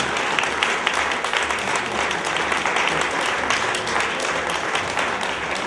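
A crowd at a cultural evening applauds the Ivorian ambassador with steady, loud clapping that continues evenly throughout, with a few sharper individual claps and some murmured voices underneath.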